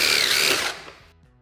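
A cordless power drill drives hardware back into a Polaris RZR Trail S 900 windshield mount, one loud close whirring burst that winds down and stops after about a second.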